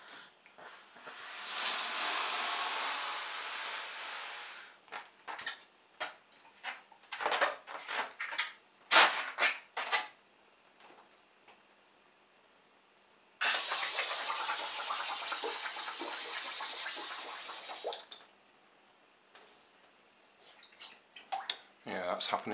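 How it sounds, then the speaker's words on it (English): Air gushing out with a loud broad hiss as the skirt edge of a hovercraft dips into water, sounding in two long bursts with choppy splashy gaps between them. "The edge dips under the water and so all the air escapes."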